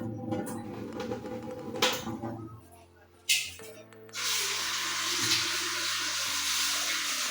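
Soaked lentils are rinsed under a tap, with water running steadily and close for several seconds after some brief handling noises and a few splashes.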